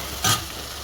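Chopped onions with garam masala frying in a hot pan for a chicken curry give a short, close sizzling burst that swells and fades within a fraction of a second.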